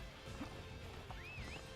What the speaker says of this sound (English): Oh, hey, I do have a horse.